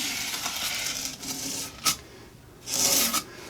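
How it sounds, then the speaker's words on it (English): A putty knife scraping and smoothing a bead of adhesive for model railroad roadbed, a close, soft rasping drag in uneven strokes with two brief louder scrapes near the end. "Let me just go through with the old putty knife and sort of smooth all that out."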